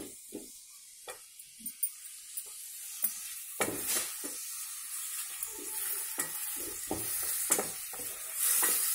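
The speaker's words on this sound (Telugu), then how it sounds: "ఇవి మీడియం ఫ్లేమ్లో పెట్టి మనం బాగా మగ్గే వరకు వేయించుకోవాలి," Curry leaves and chopped tomato fry in a pan over a medium flame, with a soft continuous sizzle broken by sharp clicks and scrapes of stirring.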